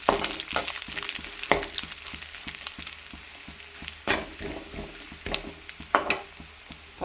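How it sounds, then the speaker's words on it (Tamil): Dried red chillies fry in hot oil in a pan, with a steady close sizzle broken by repeated scraping knocks as they are stirred. "இது கொஞ்சம் நல்லா பொரியட்டும், நல்லா வதக்கிக்கலாம்."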